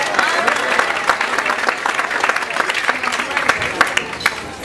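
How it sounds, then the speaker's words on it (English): A gala audience claps steadily throughout, a dense patter of many hands that stays even and moderately loud from start to finish. "deserves a round of applause."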